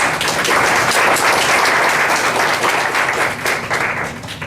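Applause from an audience at an open forum event, dense steady clapping that fills the room at full strength and tapers slightly toward the end.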